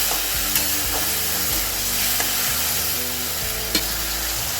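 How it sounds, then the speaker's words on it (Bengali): Spice paste of ginger, chilli, cumin and turmeric sizzles with potatoes in a pan, a steady frying hiss broken by occasional spoon stirs and scrapes, with no voices. "এখন আমি এই মশলাগুলোকে ভালো করে ভেজে নেব"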